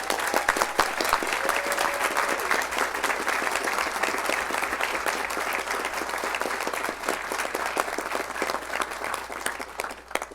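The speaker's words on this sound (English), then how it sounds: "I'd like a round of applause for them" Crowd at a North Las Vegas city council meeting gives a sustained round of applause for the police department, many hands clapping steadily and fairly loudly for about ten seconds.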